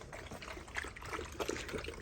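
Puppies lapping and drinking water from a bucket on a small farm in Ghana, giving soft, irregular wet trickling and splashing sounds, close and fairly quiet throughout.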